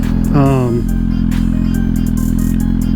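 A Suzuki GSX-R1000 motorcycle engine idles with a loud, steady low rumble close by, while a voice speaks briefly over it near the start.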